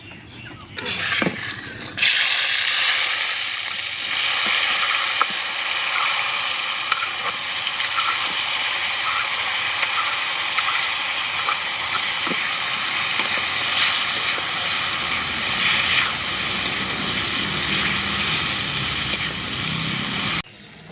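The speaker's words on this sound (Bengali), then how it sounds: "প্রথমে আমি পটলগুলোকে হালকা ভেজে নেবো" Pointed gourd (potol) fries in mustard oil in a wok, a loud continuous sizzle and hiss that starts abruptly after a quiet moment and carries on steadily, with faint stirring clicks throughout.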